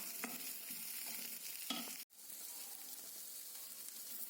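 Ingredients for moringa chutney sauté in a pan with salt added, giving a steady close hiss of frying and a few soft stirring scrapes, then a brief cut before the sizzle resumes.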